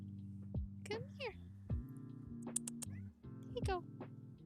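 A cat meows several times in short, rising calls, close and clear, with a person talking softly in between and imitating the meows with their own voice.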